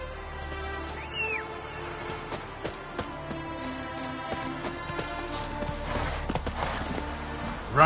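Hoofbeats of Roach, Geralt's horse in The Witcher 3 on PS5, pound in a steady galloping clip-clop over a busy game soundscape with rain-like patter, moderately loud and without speech.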